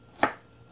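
A knife makes a single sharp chop while mincing ginger on a cutting board. The impact is close and crisp and fades quickly into quiet.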